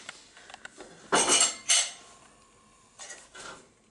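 Dishes and cutlery clatter in two loud bursts, followed by a pair of softer clinks after a pause, with small scattered taps in between.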